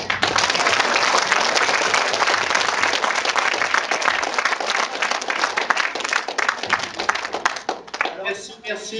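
Audience applause greets a film director at a screening event, dense clapping close and full for most of the stretch, then fading out as a voice begins speaking at the very end.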